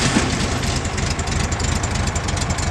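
A 1971 Volkswagen Beetle engine starts and idles steadily and close by, a continuous low rumble with no voices.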